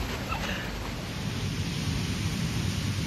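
Steady rain falls outdoors, a dense, continuous hiss with a low rumble beneath, loud and even throughout with no talking.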